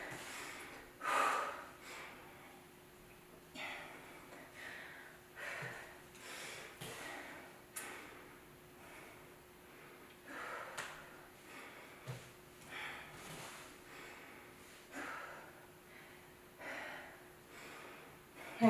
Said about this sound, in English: I'm just breathing here